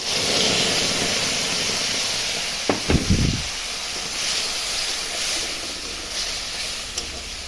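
Salted, turmeric-spiced paste hits fried potatoes in a hot pan with a sudden loud sizzling burst, settling into a steady background hiss alone.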